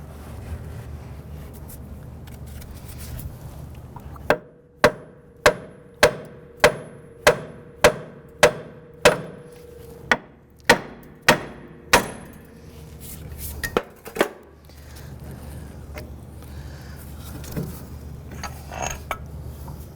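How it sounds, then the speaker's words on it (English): A hammer taps a ball joint out of the lower control arm of a 2005-2007 Jeep Liberty, about a dozen sharp metallic strikes in a steady rhythm followed by a few scattered knocks over a low background hum. "we're going to tap on the bottom of this ball joint here to get it out of the lower control arm"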